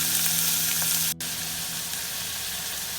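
Onions sauteing in oil for sambar sizzle steadily in a pan, a close, continuous hiss of frying with a brief break, and no talking.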